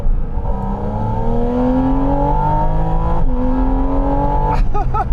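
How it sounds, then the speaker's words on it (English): A sports car engine revs up steadily, its intake roaring and rising in pitch, loud and close, then dipping briefly before climbing again. "The tone of the intake just changes depending on where you are in the rev range"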